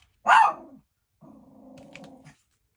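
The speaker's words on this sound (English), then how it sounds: "Sorry about the dog barking." A single loud dog bark rings out up close, followed by a lower, drawn-out growl lasting about a second before silence.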